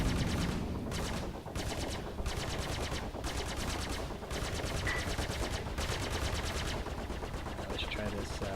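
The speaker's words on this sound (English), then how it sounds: "Look how easy it is to aim with gimbal weapons." In Star Citizen, gimbal weapons on an Anvil Gladiator fighter fire steady rapid bursts against a Vanduul swarm, a continuous mechanical rattle broken by short pauses, under game audio.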